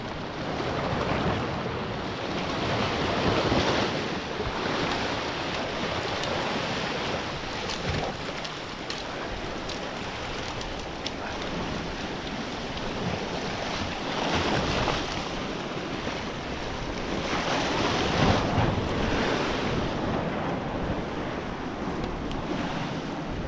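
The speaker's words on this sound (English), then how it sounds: "Come on, waves." Ocean waves surge and break steadily against a remote island shore, a continuous loud wash with swelling peaks, blended with gusting wind buffeting the microphone; no talking.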